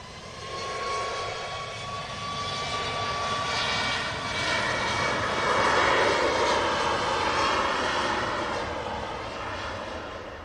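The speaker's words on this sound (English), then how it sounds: "Ryanair rotates. Used a decent amount of the runway there. And then commences the climb." A Ryanair passenger jet taking off from runway 23 left, its engines roaring in a broad, steady rumble that swells toward the middle and then eases slightly as it climbs away, heard from a distance with no talk.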